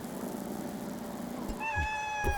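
Cat meowing in the game Celeste, a single clear meow rising near the end over a hiss of ambient game sound.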